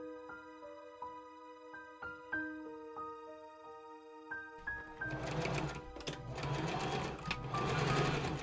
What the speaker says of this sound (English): I machine sew that seam up.